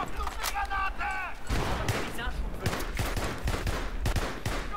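In a Battlefield 3 multiplayer match, a grenade explosion and bursts of gunfire crack through the game audio, with rapid repeated shots, in-game sounds and someone speaking over the action.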